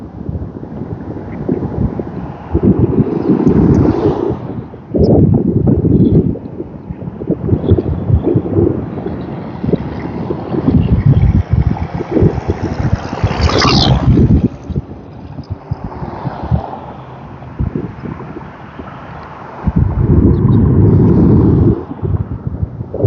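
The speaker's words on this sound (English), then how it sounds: "A little windy, guys. Apologize if you hear it." Gusts of wind buffet the microphone on an outdoor e-scooter ride through Woodland Park, Colorado, coming in loud low-frequency bursts that rise and drop repeatedly over a steady rumble.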